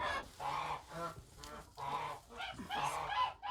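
Agitated chickens squawk and cackle loudly in a flurry of harsh, overlapping calls, close by and rising and falling in bursts, with no speech.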